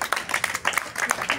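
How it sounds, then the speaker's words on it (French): Brief applause for a young karate student in a class, a short patter of hand claps from a small group, fairly close. "Applaudissez-la."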